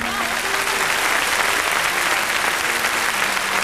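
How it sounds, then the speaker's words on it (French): A studio audience at a French fan show applauds Laurent with dense, steady clapping from a large crowd, loud and continuous throughout. "Applaudissez Laurent."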